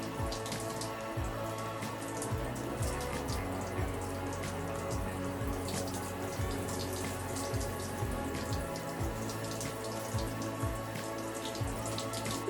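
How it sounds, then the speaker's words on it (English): Water runs steadily while hair is rinsed after a shampoo wash, a constant splashing patter with drips, close and fairly quiet, no talking. "The last wash, rinse after using the shampoo, very mild."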